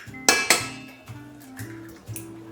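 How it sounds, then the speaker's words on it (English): Eggs cracked into a KitchenAid stand mixer bowl for holiday baking: two sharp clinking taps close together near the start, then softer clatter and low ringing tones fading out. "Crack 2 eggs in there."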